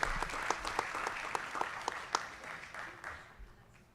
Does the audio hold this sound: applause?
yes